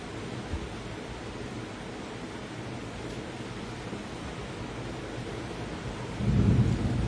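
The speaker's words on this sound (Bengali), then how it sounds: "এখানে খুব জোরে বাজ পড়ছে।" A thunderstorm sends a steady, dense roar of rain and rumble, with a heavier, louder burst of thunder rolling in near the end; nobody speaks.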